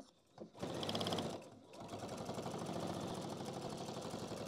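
A sewing machine runs up to speed stitching a seam on a handbag organiser, a close, steady rapid whirring rattle after a brief start and pause.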